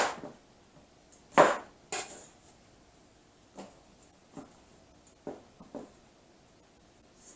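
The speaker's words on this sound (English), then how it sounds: "for the bitter melon part, I'm going to cut the ends off" Knife trimming the ends off a bitter melon on a cutting board: a few sharp, separate chops and taps spread out with quiet gaps between them, close and dry.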